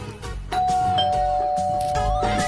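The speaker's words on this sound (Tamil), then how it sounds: "யாரு இந்த நேரத்துல காலிங் பெல் அடிக்கிறது?" A doorbell rings with a clear ding-dong tone that rises over a busy background of low music and household noise, starting about a second in and lingering as it fades.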